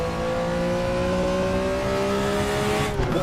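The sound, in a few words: race car engine, exhaust popping and gear whine in RaceRoom video game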